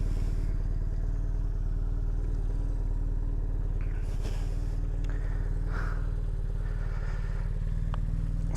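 A BMW R1100S motorcycle is ridden with its engine rumbling loudly and steadily throughout, a deep, constant drone with some wind and road clatter, heard up close with no talking.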